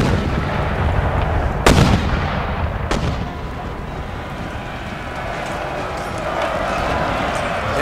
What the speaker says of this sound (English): You howitzers have the explosive shells and long range things